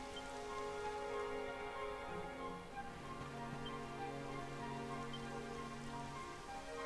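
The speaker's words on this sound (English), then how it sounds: "It would have to go and start raining, wouldn't it?" Rain falls steadily in the Dragon Quest XI video game, a soft continuous patter under a sustained musical tone, faint and with no talking.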